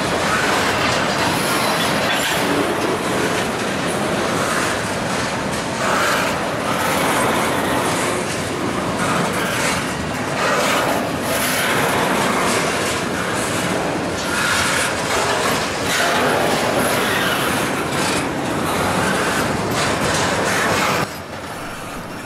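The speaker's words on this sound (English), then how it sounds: "CSX Q136 was on the move to East Brunswick to pick up their hard-working conductor" CSX Q136 freight train pulling away eastbound at Brunswick, Maryland, a loud, steady rumble of rolling railcars with clickety-clack wheel beats and occasional wheel squeal, continuous for about twenty seconds before easing slightly at the end.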